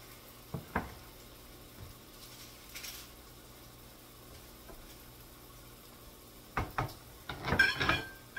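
Breakfast sausage patties fry in a pan with a faint, steady sizzle. A few sharp clatters come early, and louder stirring or pan noise builds near the end.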